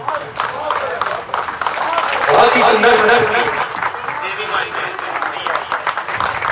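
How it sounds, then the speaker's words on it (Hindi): A crowd gives a standing ovation after a recited Sanskrit Shiva hymn at a stage performance. Dense clapping swells mid-clip and then eases, mixed with people talking nearby. "खड़े होकर तालियां बजती हैं।"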